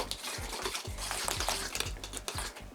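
A spoon stirs dollops of yogurt into a sauce mixture for chicken shawarma, making rhythmic, close scraping and squelching strokes repeated several times over a soft sizzle.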